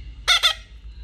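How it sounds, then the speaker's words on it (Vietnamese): Red-breasted parakeet chick squawking for food, two quick loud harsh squawks close by, alone against quiet background. "nếu mình ngưng ra là em vẹt bé Cam sẽ la đó"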